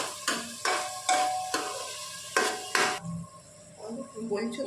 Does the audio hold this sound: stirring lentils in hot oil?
yes